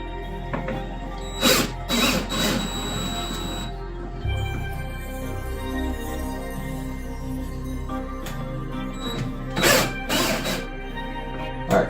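A power tool loosening bolts on a vehicle, several short whirring bursts separated by pauses, close and loud over a steady low hum.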